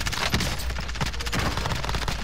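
A rapid burst of automatic gunfire in a first-person shooter, with dense, repeated shots close and loud across the whole short stretch, sounding like a fusillade.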